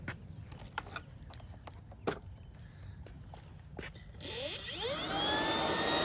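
A Shark stick vacuum cleaner starts up after a few scattered knocks and handling clunks, its motor whine rising and holding loud and close.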